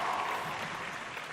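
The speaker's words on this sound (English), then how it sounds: "Hey, guys, a big clap." A conference audience at a short-term rental keynote claps briefly, a dense wash of hand clapping that starts strong and tapers slightly over about a second.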